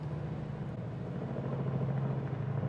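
A low, steady rotor rumble hums continuously at moderate distance, holding level without voices.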